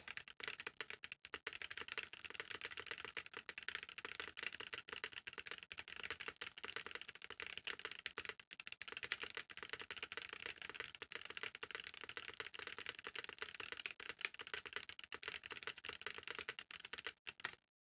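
Rapid, continuous typing on a KBD8x MKII mechanical keyboard fitted with Boba U4T tactile switches, a dense stream of close, soft clacks at a fast pace for nearly the whole stretch, with no talking.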